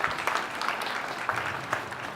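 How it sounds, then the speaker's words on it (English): Audience applause at a tech startup pitch showcase, a fairly soft, even patter of many hands that holds steady throughout. "Let's give her another round of applause"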